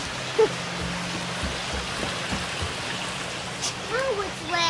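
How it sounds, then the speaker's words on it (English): Constant rushing of a flowing stream in a botanical garden fills the background, with a few voices speaking briefly over it. "Check out that stream."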